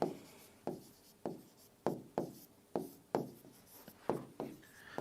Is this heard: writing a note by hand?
yes